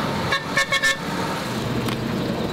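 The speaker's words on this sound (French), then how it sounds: "nous voyons le premier camion sur la route de la piste du Cameroun" A truck on a dirt road in Cameroon sounds a few quick horn toots over a steady, moderately distant engine and road rumble, with a faint extra tone near the end.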